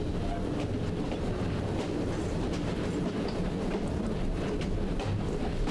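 Rumbling, clattering train running steadily along its tracks in the Victorian-era game Assassin's Creed Syndicate, a dense continuous roar with faint rhythmic clacks throughout.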